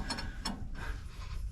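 A hand ratchet spins nuts onto truck suspension bolts while lowering a 4x4 squarebody, giving a few quick close clicking bursts with short pauses between them.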